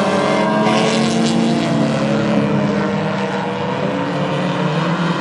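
Hornet-class stock cars race into turn one at North Central Speedway, their engines forming a loud, continuous, layered roar that holds steady throughout.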